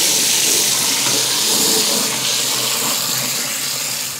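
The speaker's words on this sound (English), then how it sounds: "Now we're filling this with water again." Water from a kitchen tap gushing into a container used for home olive oil making, a loud, steady rushing flow that fills the whole clip without pause.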